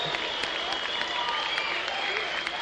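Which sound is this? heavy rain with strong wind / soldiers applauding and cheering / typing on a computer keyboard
soldiers applauding and cheering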